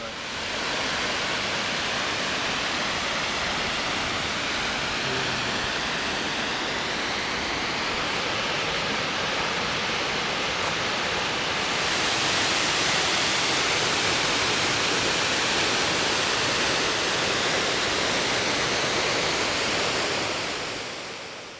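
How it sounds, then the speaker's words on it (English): A waterfall dropping from high cliffs in the Albanian Alps roars as a loud, dense, unbroken rush, growing a little stronger partway through, with no voices. "passing by an incredible waterfall that fell high from the cliffs above"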